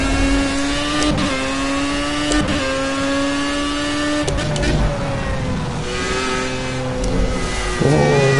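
A race car engine in a racing video game revs and accelerates, its whine sweeping up and dropping sharply at each gear shift, loud and close, with a few faint vocal sounds.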